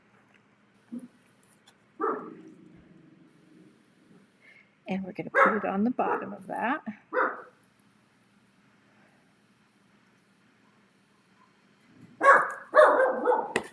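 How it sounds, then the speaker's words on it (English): A long-haired dachshund barking indoors: a quick burst of several sharp, loud barks, with a person talking before and after. "Pardon the dog. We're not sure what he's seeing out there."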